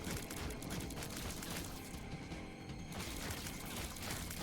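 Bomb blasts in The Binding of Isaac: Repentance, a dense, loud rumbling barrage of booms and crackling hits filling the whole stretch without pause.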